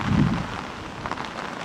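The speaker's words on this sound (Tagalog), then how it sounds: "halos walang tigil na pag-ulan ngayong araw na ito" Heavy, nearly nonstop rain in Baguio City pours down as a dense, steady hiss close by, with a low rumble at the very start and no voices.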